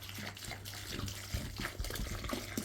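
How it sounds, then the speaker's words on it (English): Water is poured onto dry coco coir, making a close, continuous splashing pour with small gurgles and uneven bursts, with no talk. "I'm just going to throw a bit more water in"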